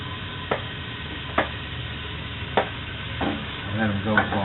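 Onions fry with garlic in a pan, producing a low steady sizzle marked by a few sharp utensil knocks and scrapes at irregular intervals.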